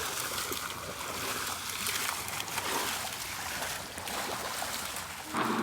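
Steady rushing splash of a waterfall, a dense broad wash of falling water close by with no voices, swelling slightly louder at the very end.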